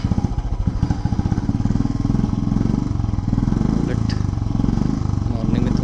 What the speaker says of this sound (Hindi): उसका इंजन गर्म करना है तो थोड़ा एक्सीलेटर दे दो